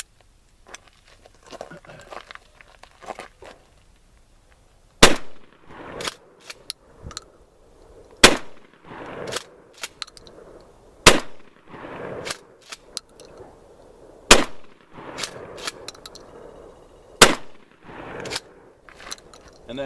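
An H&R Pardner Pump 12 gauge shotgun fires five loud, sharp blasts about three seconds apart, with softer clatter and rustling between the shots.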